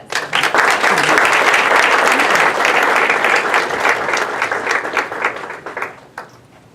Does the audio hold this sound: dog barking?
no